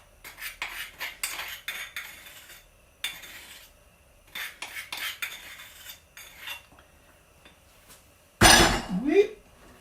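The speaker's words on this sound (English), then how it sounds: "So let's just stir all that in." A metal spoon scrapes and clinks against a pot while a spice mix is stirred into simmering beef, in irregular bursts of clatter with a louder, sharper scrape near the end.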